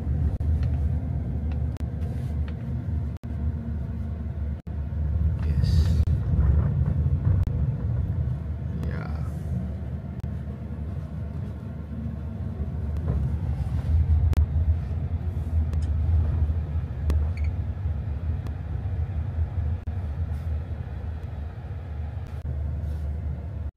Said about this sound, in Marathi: छोटस ब्रिजून चालली गाडी.